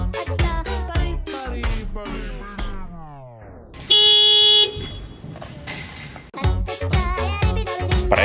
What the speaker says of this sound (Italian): È dotata di clacson da vera auto.